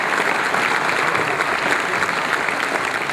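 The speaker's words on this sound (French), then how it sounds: "Je pense qu'on peut applaudir Daniel" An audience claps at a New Year's greetings event, dense and sustained applause that stays loud and steady from start to finish.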